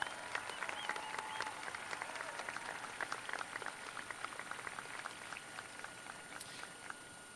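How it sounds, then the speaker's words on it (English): Steady audience applause at a 2022 Valley High School commencement ceremony, many hands clapping at a moderate distance and holding an even level throughout, with no talk over it. "Please let's give these scholars a round of applause."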